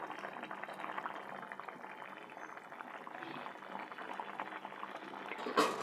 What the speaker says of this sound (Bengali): হালকা একটু ফুটিয়ে নিয়ে হালকা সরষার তেল দিয়ে নামিয়ে নেব